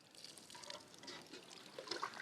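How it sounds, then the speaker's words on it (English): Water poured over a t-shirt wrapped around a hose to condense steam at a bush campsite, a soft continuous trickle and splash, fairly quiet and close, with no talking. "What I have to do is condense that steam by pouring water over this t-shirt"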